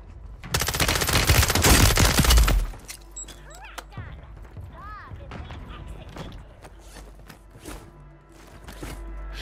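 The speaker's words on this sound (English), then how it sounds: "Shooting at dudes across." Rapid video game gunfire rattles out in a loud, sustained burst of automatic shots for about two seconds, then gives way to quieter scattered shots and clicks under voices chatting.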